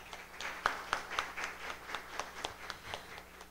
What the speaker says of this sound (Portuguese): Palmas para o convidado.